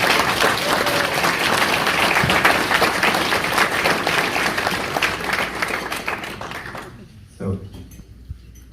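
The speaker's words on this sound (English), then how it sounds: "So let's give them an applause." Gala audience applauds event co-chairs in a dense, loud burst of clapping with crowd noise, then it tapers off quickly and fades out near the end.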